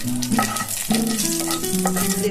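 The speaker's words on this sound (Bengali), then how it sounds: "আমি আবার একটুখানি তেল দিয়ে দিচ্ছি আমি একটু সাদা জিরে শুকনো লঙ্কা মাঝখান দিয়ে ফাটিয়ে" Cumin seeds and dried chilies split in the middle crackle and sizzle in hot oil, a close, busy frying hiss with sharp spits and a low ringing pan tone under it, no talk.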